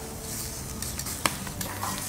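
Skirt steak sears with a steady hiss and crackle, a few faint scrapes and one sharp metallic tap partway through, no voices.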